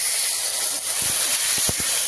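Water poured into a hot pan of fried potatoes and spices sets off a loud, continuous steamy hiss with a few soft bubbling pops, heard close and alone.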